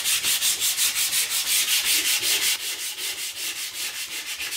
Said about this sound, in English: I'm just gonna slightly sand over the entire thing